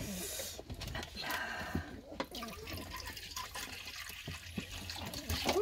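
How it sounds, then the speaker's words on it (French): Water splashing and trickling as it is poured into a water bowl for Staffordshire Bull Terrier puppies, close and moderately loud, with someone talking softly throughout. "Attends, je mets de l'eau."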